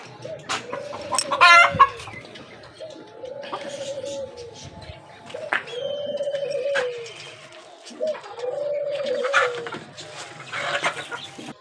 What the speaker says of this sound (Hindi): और ये मुर्गी अभी भी अंडा देने के लिए बैठी है